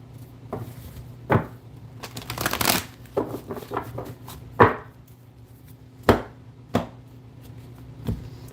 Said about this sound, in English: 2 shuffles for Gemini.